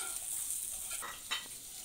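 Fish curry with tite fish being stirred in a pan, a brief close sizzle with a few scraping stirs and no voices.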